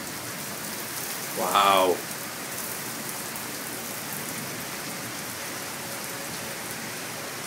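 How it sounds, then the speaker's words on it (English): Heavy rain pours in a Toronto storm as a dense, steady hiss drumming on surfaces. A brief exclamation breaks through early on. "probably the hardest I have ever seen it rain in Toronto"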